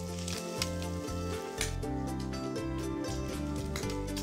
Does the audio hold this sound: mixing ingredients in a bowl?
no